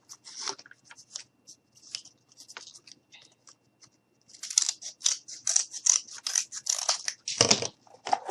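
Scissors cutting cardboard strips, close crisp snips and crunches, sparse at first and then a dense run of rapid cuts, with no talk.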